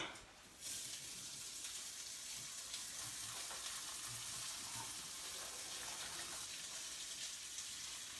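Chopped jalapeno and celery softening in oil in a pan, giving a steady, close sizzle with a soft frying hiss that runs the whole time after a brief quieter opening, with no talking over it.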